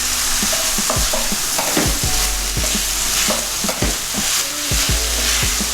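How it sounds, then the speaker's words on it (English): Scrambled paneer stirred and frying in a hot pan, with a steady sizzle beneath repeated scraping strokes of a spoon against the pan, close and fairly loud throughout. "And give it a good stir."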